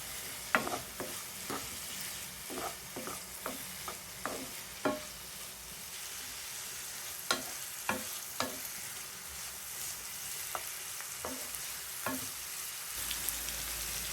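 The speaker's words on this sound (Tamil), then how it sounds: "மிளகு சீரகம், மஞ்சள் இவ்வளவு போட்டு வதக்குறோம்." Pepper, cumin and turmeric being sautéed in a pan for an onion-flower dish, with repeated sharp spatula scrapes and taps in an irregular rhythm over a steady low sizzle, close and moderately loud, no talking.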